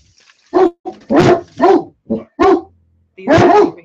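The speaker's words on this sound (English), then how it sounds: "my dogs are barking because I said hi" Pet dogs barking indoors during a live chat, a close, loud run of about seven sharp barks and yips in quick succession, with brief gaps between them.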